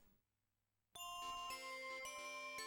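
Jingle Bells plays in the snowy Ice World stage of Ristar on the Sega Genesis, bright chiming bell tones that start abruptly after a short silence and carry on in a steady rhythm, with no talk.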